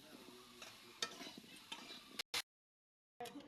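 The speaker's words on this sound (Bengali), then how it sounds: "লঙ্কা গুঁড়ো দিয়ে দিচ্ছি অল্প করে, একটু নেড়ে দিচ্ছি।" Spoon stirring plum pickle with chili powder in a pan, soft scraping strokes with faint sizzle, quiet and close, breaking off briefly near the end.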